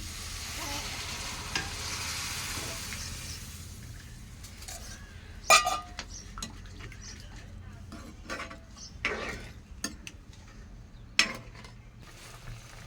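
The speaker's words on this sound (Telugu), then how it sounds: "కూర ఉడుకుతుంది." Curry with chili powder simmering and frying in a pan, a soft steady sizzle close by, then a few sharp metallic clinks and scrapes of a spoon against the pan spaced several seconds apart.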